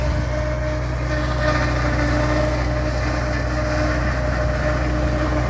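A tractor engine drones steadily during silage harvesting on a farm, a continuous low rumble at close range with no break or change in pitch.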